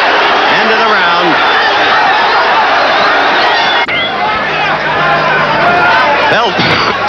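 A boxing arena crowd roars and cheers between rounds, a dense, loud wash of noise that holds steady throughout, with a commentator talking over it.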